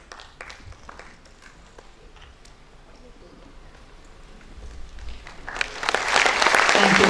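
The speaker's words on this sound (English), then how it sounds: "Thank you, ladies and gentlemen, for your kind applause." Audience applause at a school felicitation day starts with sparse scattered claps and builds into loud, dense clapping near the end, with a speaking voice faintly underneath.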